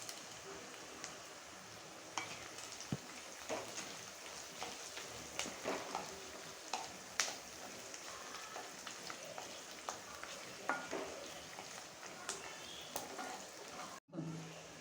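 Dal tipped into hot oil in a home Indian kitchen fries with a steady, quiet crackling sizzle, dotted with small pops and occasional stirring clinks, continuing alone with no talk.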